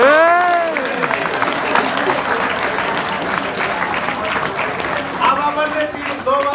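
A school audience of children claps together, a broad steady wash of applause running under and between an adult's voice and a few sung or called-out tones near the start and end.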